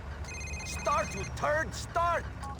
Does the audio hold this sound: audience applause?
no